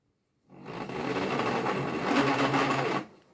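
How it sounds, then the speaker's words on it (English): An electric motor on a faulty VESC-based controller runs roughly for about two and a half seconds, a loud, steady, coarse buzzing whir that starts and stops abruptly, heard alone. "the motor just runs really roughly now"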